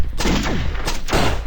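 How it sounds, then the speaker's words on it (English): Rocket launcher fire in the video game Raze 3 produces three sharp, loud blasts with sweeping tails spaced across a short moment, heard alone. "Am I just shooting my friends here or not?"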